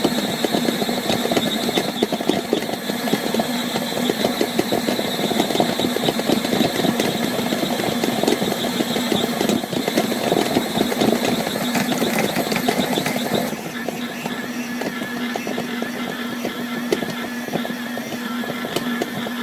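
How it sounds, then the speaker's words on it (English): A KitchenAid stand mixer kneading pizza dough with a dough hook, a steady close motor whine with a rhythmic churning thump that continues without pause, slightly easing near the end. "the KitchenAid's done a lot of the work"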